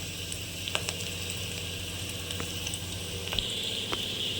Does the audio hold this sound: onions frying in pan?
yes